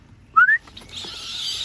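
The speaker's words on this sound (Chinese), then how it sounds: "现在只要是听到我的口哨，它们嘴巴张得可大了" A person whistles two quick rising notes to call young quail chicks to feed, close and clear, followed by a steady faint high-pitched wash of background sound.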